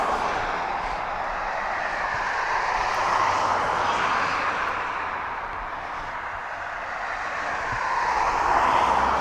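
A Cessna 421C Golden Eagle twin-engine plane passes near East Midlands Airport, its engine drone a steady broad roar that dips slightly midway and swells again toward the end, heard alone at moderate distance.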